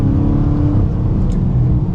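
A 2023 Chrysler 300C final edition with the 6.4-litre engine pulling away and accelerating, a steady, loud engine drone heard from inside the cabin throughout, with no talking.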